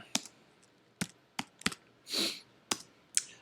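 Typing on a computer keyboard: sparse, distinct key clicks at an irregular pace, close and fairly quiet, with one brief soft rustle in the middle and no talking.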